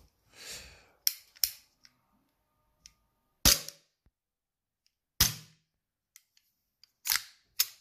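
A Volant Stratos custom Glock 17 gas airsoft pistol, running low on gas, fires five sharp cracks at irregular intervals, with fainter mechanical clicks between shots in a quiet room.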